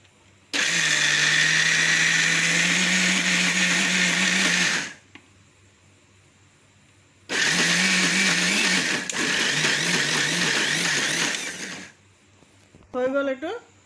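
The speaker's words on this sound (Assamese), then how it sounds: "এটো মেচিনত কুটিম এতিয়া অকণটো পানী দি লৈছোঁ" A kitchen mixer grinder whirs loudly through ingredients with a little water added for pumpkin flower pakora batter, running in two bursts of about four seconds each with a pause between, then a short rattle and a voice at the end.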